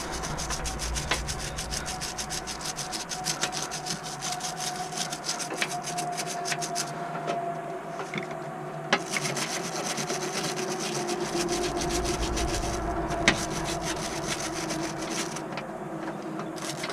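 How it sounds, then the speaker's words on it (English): Steady, close scrubbing of grime off excavator parts continues for the whole stretch, a dense rasping rub with small knocks and brief changes in stroke, heard alone without talk. "Scrub all that stuff."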